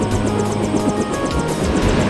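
Helicopter in the Deus Ex video game, close rotor thumping in a fast, even rhythm over a constant engine drone, loud and with no voices.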